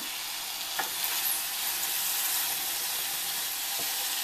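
Drained, rinsed canned chickpeas being stirred in a hot pan for channa masala, a steady bright sizzle with a few soft scraping knocks from the spoon, close and continuous with no talking.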